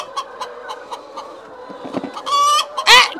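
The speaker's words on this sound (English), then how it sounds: "Go away, chicken!" Chickens on a farm cluck in short, repeated, evenly spaced notes close to the microphone, then break into louder agitated squawks and a sharp cry near the end.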